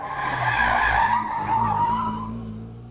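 A Fiat 500 racing up the Wiscombe Park hillclimb, its small engine a loud, buzzing, sustained roar that swells as the car nears, then eases slightly toward the end.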